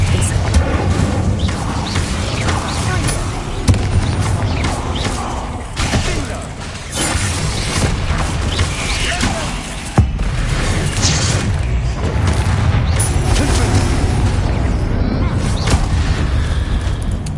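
Explosive spells cast in Hogwarts Legacy fill the scene with loud, continuous booming and shattering crashes, heavy impacts stacked over one another, while a voice calls out over the din.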